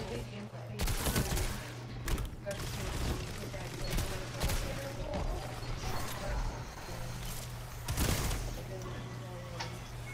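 Gunfire rattles through a Destiny 2 multiplayer match, with sharp repeated shots and bursts amid game effects and a constant low hum, while a player talks over the action.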